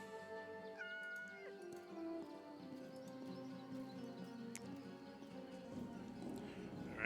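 A cat in a video game meows in a drawn-out, rising and falling cry, followed by softer game sounds and faint background clatter.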